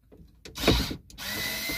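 A power screwdriver driving screws into a storage box in a Volkswagen Touran, a short whirring burst that rises and then holds a steady motor hum, loud and close.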